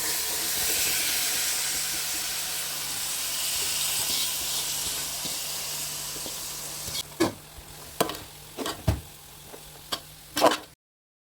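Mushrooms fry in a pan with a steady, close sizzling hiss that gradually thins out, followed by a few sharp clinks and scrapes of stirring near the end.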